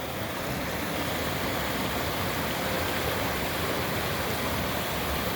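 A river rushes steadily on a dull, rainy day in the Rockies, a dense, even broadband wash of flowing water heard close and alone with no voices.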